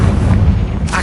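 Fiery Confringo spell blast in the Hogwarts Legacy video game, a loud, heavy low boom that rumbles steadily through the short moment.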